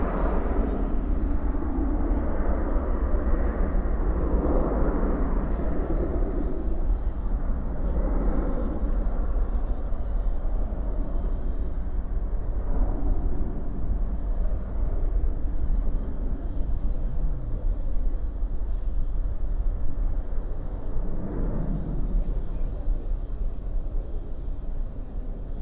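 An airliner rolling out after landing at DFW at night with spoilers up and thrust reversers deployed, a broad, steady low roar that stays loud and unbroken for the whole stretch, with faint wind rumble at the microphone.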